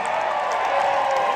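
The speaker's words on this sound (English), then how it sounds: "Hey, Oregon, how about getting a round of applause for the boys in the band" An outdoor concert crowd at the Jackalope Jamboree in Pendleton, Oregon, applauds and cheers for a band, a dense, steady roar of clapping and shouts that stays loud throughout.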